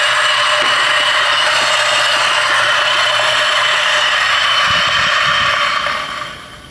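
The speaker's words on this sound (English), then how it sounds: "grinder's on and running" A DF64V coffee grinder fitted with SSP multi purpose burrs whirs loudly and steadily up close, a constant high grinding hum that winds down near the end.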